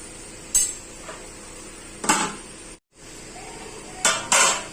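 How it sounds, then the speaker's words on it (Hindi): Spice paste with chilli and turmeric stirred and fried in a pan for a Chhattisgarh amchur arbi dish, heard as a few scattered metallic scrapes and clinks of a spoon against the pan over a steady low background. "अब इसे हम 15 से 20 मिनट तक भून लेंगे"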